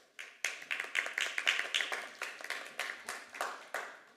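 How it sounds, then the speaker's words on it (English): Brief applause at a city council public meeting, a small crowd's hand claps in a quick irregular run of sharp transients, moderately close and fairly soft, with no talk over it. "We're going to ask that you please hold your applause"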